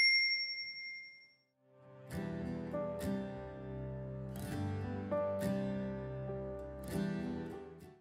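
Notification bell sound effect: bright metallic dings ring out in a string of overlapping chimes with lingering tones, clear and close, after a few faint high pings at the start.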